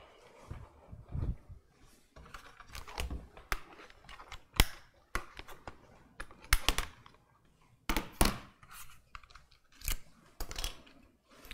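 Computer keyboard and mouse being unpacked and plugged in during a PC build, giving a series of sharp plastic clicks, taps and rustles at close range with irregular pauses, no talking.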